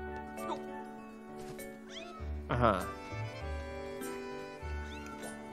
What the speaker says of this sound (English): Well, it sounds like a cat.